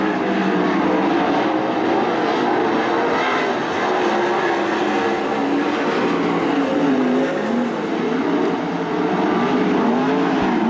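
410 sprint cars racing wing to wing at Attica Raceway Park, a loud, dense, continuous engine roar that stays steady throughout with rising and falling pitch from several cars passing together.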